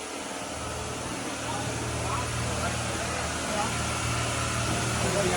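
Engines of a Bayliner 4788 motor yacht run up to 2,400 RPM during a sea trial, a steady, loud, continuous drone with a low hum and broadband rumble that holds even and slightly swells throughout.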